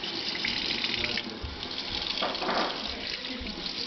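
Tap water runs steadily into a sink while hands are washed beneath it, a continuous close splashing stream that holds even throughout.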